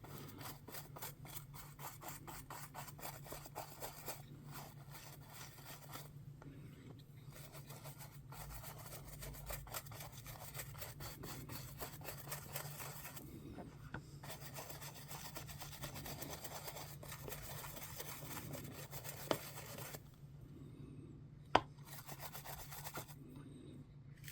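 A burnishing brush with fairly stiff bristles scrubbed back and forth over a small heart-shaped trinket box, giving a quiet, continuous scratchy rasp with rhythmic strokes over a low hum and a couple of sharp taps near the end, and no speech.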